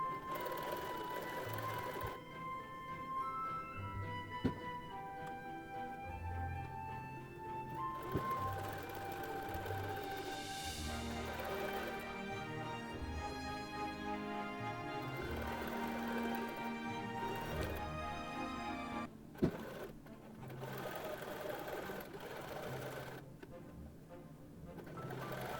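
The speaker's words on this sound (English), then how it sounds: "And switch to a zigzag stitch and a stitch length. Now it's ready to sew over the shape." A sewing machine running a zigzag stitch over an appliqué shape on a child's face mask, a steady close mechanical whir with rhythmic needle ticking that pauses briefly and resumes.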